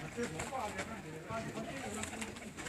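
Soft pigeon coos repeat in low, rounded phrases under background chatter, fairly faint.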